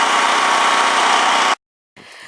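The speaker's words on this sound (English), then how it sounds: "So I brought the tractor over here" A tractor engine running steadily, a loud continuous mid-range drone that cuts off abruptly, leaving a brief silence before a fainter rumble resumes.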